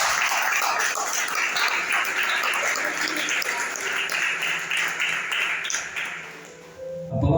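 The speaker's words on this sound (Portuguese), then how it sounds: "Dá uma salva de palmas para Jesus bem forte." A church congregation applauding loudly during a service, with sustained clapping for several seconds before it fades out.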